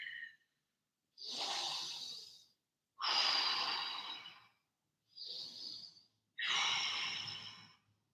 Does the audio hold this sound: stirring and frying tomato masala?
no